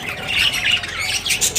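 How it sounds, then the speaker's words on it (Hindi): Pet parrots squawk in a quick run of harsh, shrill calls, close and loud, repeating several times in under two seconds with no talking over them. "मेरे तोते, मुझे ये तोते बहुत पसंद हैं।"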